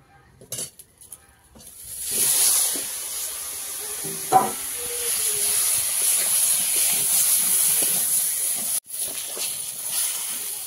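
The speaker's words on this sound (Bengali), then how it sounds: "আর এবার বেগুনটা ভেজে নেব।" Eggplant frying in hot oil sends up a loud, steady hiss and sizzle that swells after a few quiet seconds, with a clink of utensils midway and no talking.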